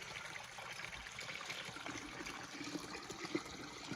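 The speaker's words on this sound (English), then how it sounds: "here's the water coming in" Water trickles and gurgles steadily into a trench by a dam wall overflow, a faint continuous running sound close by with soft outdoor ambience.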